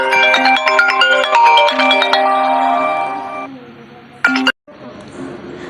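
A phone rings with a repeating melodic ringtone while a call is placed to a mother in a school skit, the tone fading after a few seconds before a brief final burst, with light background noise.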